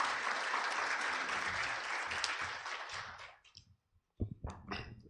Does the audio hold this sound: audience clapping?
yes